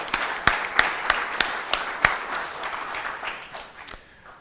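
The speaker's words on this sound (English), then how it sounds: "I think we should all give them a round of applause" An audience at a hackathon awards event gives a round of applause, a thin scattering of claps with a few louder, regular beats, fading out toward the end.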